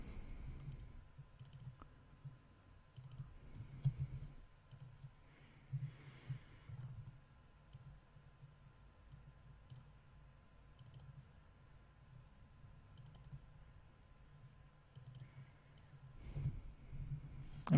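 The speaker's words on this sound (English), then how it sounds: "I'm just double clicking and adding nodes." Soft, sparse mouse clicks, some in quick double pairs, tap at a computer during vector editing in Inkscape, faint and intermittent against a quiet room.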